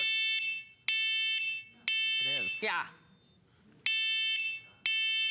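Piercing high-pitched beeps from a First Alert 2-in-1 smoke and carbon monoxide alarm under test repeat in a regular rhythm, loud and close, with a brief synthesized warning voice between beeps and someone speaking briefly.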